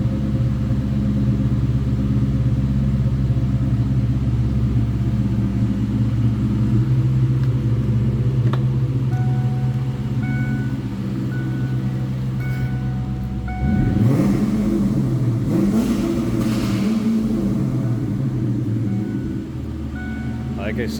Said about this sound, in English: I will give you a little throttle blip here in a second before we look underneath the hood.